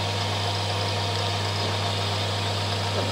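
A 220 volt permanent magnet alternator runs steadily at about 1600 rpm, giving a loud continuous drone with a strong low hum and broad mechanical whir, unchanging throughout.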